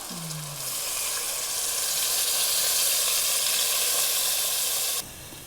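A loud, steady hiss of steam and sizzling rises as water is poured into a hot pan of stir-fried potatoes for braised potatoes, a low pouring tone at the start, then continuous frying noise that drops off abruptly near the end.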